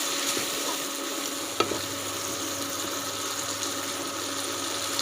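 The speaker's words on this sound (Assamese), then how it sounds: "বিলাহীখিনি মই আকৌ ভালদৰে এবাৰ ভাজি ল'ম।" Tomatoes fry in a pan for an egg and potato curry with a continuous close sizzle, and a brief scraping clink of stirring comes partway through.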